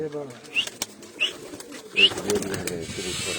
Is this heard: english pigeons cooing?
yes